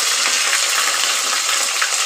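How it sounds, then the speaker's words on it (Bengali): Cut vegetables sizzle in hot oil in a kadai, seasoned with panch phoron, a dense, even hiss of frying close by with no talk. "ভালো করে সবজিগুলোকে সাঁতলে নিতে হবে,"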